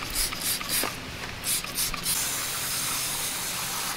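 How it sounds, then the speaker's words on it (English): Engine cleaner sprayed onto a mud-caked engine gives several short, close hissing bursts in the first two seconds, followed by a steady, softer hiss. "Spray it on the engine, or on the shroud right here."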